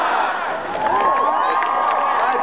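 Crowd of South Carolina Gamecocks fans cheering together the day before the game against Navy, a loud sustained roar of many voices with whoops and shouts blending into one wall of sound.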